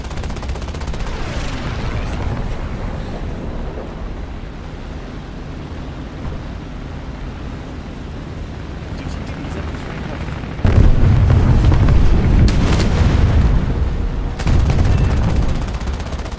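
Aircraft machine guns rattle in long continuous bursts in War Thunder, then louder heavy booms of bombs and explosions join in the second half, with crackling gunfire around them.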